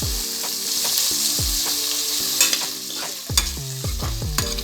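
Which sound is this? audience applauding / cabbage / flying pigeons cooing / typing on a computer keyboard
cabbage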